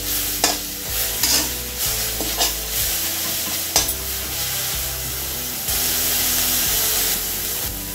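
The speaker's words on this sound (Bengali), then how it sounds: "সরষের তেল শাকের সাথে ভালো করে আমি মিশিয়ে নেব, নাড়াচাড়া করে দিচ্ছি" Jute leaves are stirred with mustard oil in a hot pan, giving steady close sizzling and frying hiss broken by repeated scraping and stirring knocks, with no talking.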